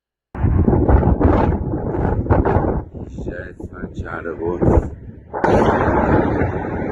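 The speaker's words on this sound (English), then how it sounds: "that is a sympathetic explosion" Large bomb blast with a shockwave, a sympathetic explosion in a combat area: a loud, heavy rumbling burst followed by rolling booms and crackles and a second heavy surge, heard amid wind noise with voices.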